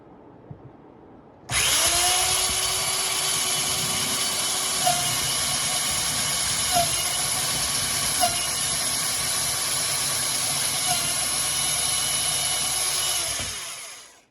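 Black & Decker electric drill boring a straight 90-degree hole, a loud steady motor whine that starts abruptly and runs unbroken for about twelve seconds with a few small clicks before winding down.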